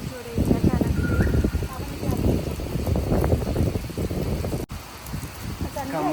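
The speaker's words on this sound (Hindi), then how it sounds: "तो आप देख सकते हो कितनी तेज बारिश हो रही है अचानक" A sudden heavy downpour hisses and patters steadily close by, a dense continuous roar of falling rain with a voice speaking over it.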